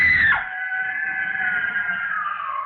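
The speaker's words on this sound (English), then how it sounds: "The girl, screaming with rage" A girl lets out a long, sustained scream of rage, loud and close, starting with a sharp rise then holding a strained, wavering cry for over two seconds, in a 1937 radio drama of Les Misérables.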